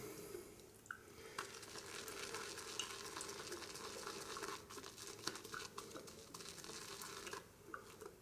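A continuous wet, crackling swish of a brush whipping shaving soap lather, close to the ear, with small clicks and a few brief pauses in the rhythm.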